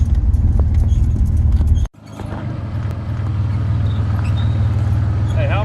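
A stock-tire Ford Ranger pickup truck off-roading, its engine droning low and loud with rattling body noise, cut by an abrupt drop before the rumble returns; a voice is briefly heard near the end.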